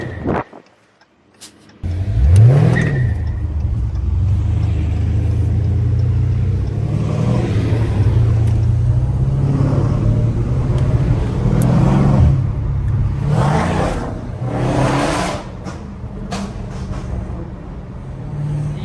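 Dodge Demon 170 Charger engine revving hard and accelerating, a loud, close, continuous roar with a rising pitch sweep at the start and sustained throttle throughout, no speech.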